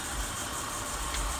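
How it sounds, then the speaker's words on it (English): A 1999 Acura TL engine runs at a steady idle, a low, even hum with a faint whir above it, continuous and unbroken throughout. "this engine runs really good."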